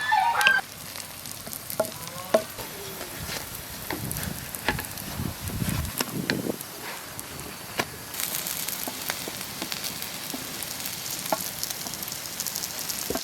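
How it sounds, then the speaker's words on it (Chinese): A chive and egg-filled flatbread frying in a pan, flipped to cook the other side: a steady crackling sizzle with scattered spatula knocks and scrapes, a brief louder rustle midway, and no voices. "一面落地馅，翻过来落另一面。"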